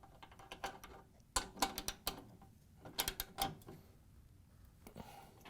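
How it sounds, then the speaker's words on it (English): A 17mm socket tightens the drum support roller nut on a Samsung dryer: quiet clusters of sharp metallic ratchet clicks in short bursts with pauses, close and without talk. "we can grab our socket, the 17mm socket, and our 8mm wrench again, and we're going to hold this while we tighten it down."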